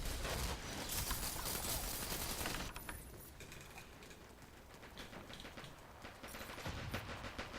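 Enemy gunfire in the online shooter Dirty Bomb rattles in dense rapid bursts, loud at first and then steadier and slightly quieter, with no talking over it.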